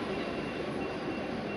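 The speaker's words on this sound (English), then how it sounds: "Final train for today." A train rolls along rails on a German rail journey, producing a steady, continuous rumble and rattle heard from inside the carriage.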